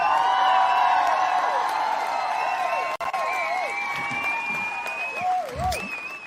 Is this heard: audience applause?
yes